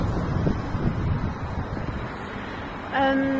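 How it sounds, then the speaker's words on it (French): Wind buffets the microphone during an evening walk outdoors near La Soufrière, a steady low rumbling gust noise throughout, with a brief tonal whistle near the end. "Par contre, il y a du vent, donc je sais pas si on m'entendra bien."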